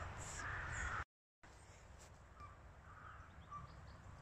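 Crows caw repeatedly at a rookery outdoors, a few harsh calls spread across the stretch over steady background noise, with a brief dropout partway through.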